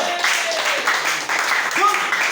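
A church congregation breaks into brief, dense applause for a prophetess, loud and close, mixed with voices calling out.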